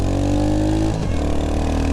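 A Royal Enfield Hunter 350 motorcycle engine revs up and shifts pitch partway through, steady and close, with no talking.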